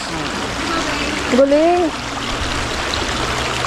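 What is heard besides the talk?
water running from a hose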